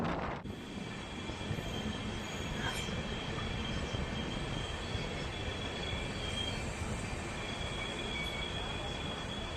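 A train hauled by a WAP-7 electric locomotive rumbles past close by near Salem station in a steady, continuous roar with metallic wheel squeal, the noise holding level throughout.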